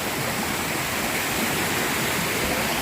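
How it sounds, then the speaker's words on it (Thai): Rushing water pours continuously at Khao Phanom San waterfall in Thailand, a loud, even roar of falling and flowing water heard up close with no voices. "วันนี้พามาฟังเสียงน้ำไหล"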